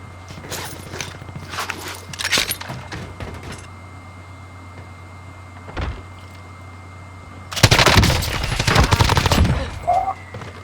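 Gunfire in Call of Duty Warzone crackles as scattered shots early on, then a loud sustained burst of rapid fire later, mixed with footsteps and movement sounds.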